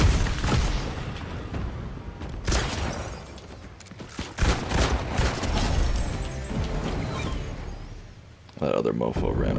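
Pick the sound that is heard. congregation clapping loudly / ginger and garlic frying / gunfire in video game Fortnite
gunfire in video game Fortnite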